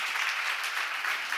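A seminar congregation at a Korean church claps together in a dense, even burst, the applause continuing without pause from start to end.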